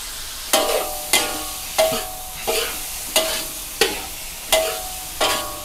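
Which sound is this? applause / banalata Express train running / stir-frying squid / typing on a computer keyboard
stir-frying squid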